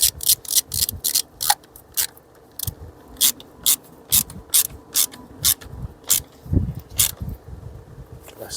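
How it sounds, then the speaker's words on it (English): A 7mm socket ratchet tightens Jubilee clamps on a Jaguar XF during alternator replacement, giving a fast run of close, sharp ratchet clicks in repeated strokes, with low mechanical clatter and a few brief murmurs underneath. "Put the 7mm socket on this now, and we're going to tighten up the Jubilee"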